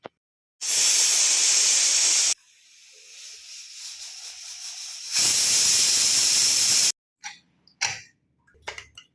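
A pressure cooker cooking mutton curry lets out two long, loud steam whistles, each a harsh hiss lasting a couple of seconds, with a softer simmering hiss between them and a few sharp rattles and clicks afterward.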